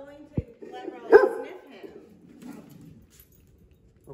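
A dog gives a few short barks and yips close by, broken up by quieter whimpering sounds over a calm indoor background.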